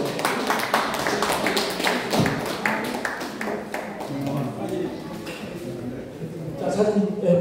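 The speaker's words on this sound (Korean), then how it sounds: "여러분 큰 박수 부탁드리겠습니다" Audience applause fills a certificate-of-appreciation ceremony at a Seoul National University forum, a dense run of steady clapping with talking throughout.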